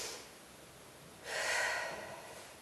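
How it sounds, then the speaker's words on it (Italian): Children aged five to seven in a kung fu class take a deep breath together, a soft airy inhale rising after a pause and slowly fading, with no talking. "Mi fermo, prendete un bel respiro."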